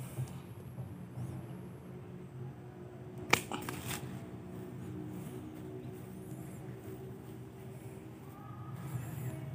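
A single crisp snip as pruning shears cut through a low branch of a Harumanis mango tree during pruning, one sharp close click against quiet outdoor background.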